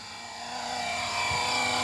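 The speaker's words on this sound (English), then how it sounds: "It's a medic helicopter, as you can see." An RC FlyWing Huey UH-1 V4 GPS helicopter drone flies outdoors, giving a steady, whining rotor and motor drone that holds constant and grows slightly louder, with no talking.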